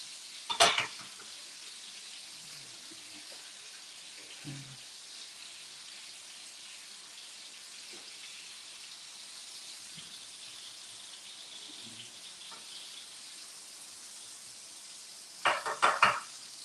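Brown stew chicken ingredients saute in a pan for a Bajan recipe, giving a steady soft sizzle and hiss throughout, with brief clatters of a utensil against the pan near the start and again at the end.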